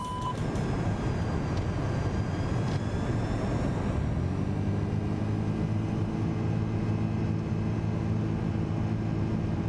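Airbus A330 jet in Microsoft Flight Simulator 2024 pulling up into a go-around near Queenstown, a steady loud engine roar that deepens and settles into a layered drone partway through, with no talk.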